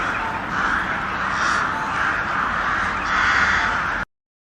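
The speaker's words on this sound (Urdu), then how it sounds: "کوئی کوا مرتا ہے تو بہت سارے کوے کائیں کائیں کرتے اکٹھے ہو جاتے ہیں اور بہت شور کرتے" A flock of crows gathering around a dead crow caws loudly and continuously, a dense overlapping racket of harsh calls that holds steady for about four seconds before cutting off abruptly.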